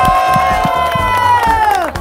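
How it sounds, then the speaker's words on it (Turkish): A television studio audience cheers and shouts loudly and continuously over a sustained musical tone, with crowd noise filling the whole stretch. "Alkışlar Nefçe"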